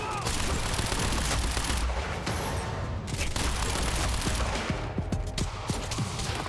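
Gunfire from the video game Quantum Break, rapid bursts of shots cracking repeatedly in dense volleys with heavy booming impacts, loud and continuous throughout.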